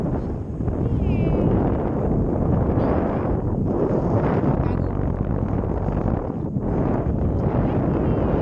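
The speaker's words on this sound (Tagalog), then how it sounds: "Talk about how high we are and we're still shaking because it's so windy." Strong wind roars and buffets the microphone without a break on a cliff top about 800 feet up at Avalon, a dense, steady rush filling the whole stretch.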